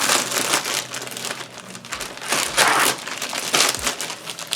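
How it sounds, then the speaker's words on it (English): Packaging on a cheap mechanical keyboard ordered from Amazon crinkles and crunches as the box is opened, with close, loud rustling bursts repeating throughout and no talking. "So let's get this unboxed."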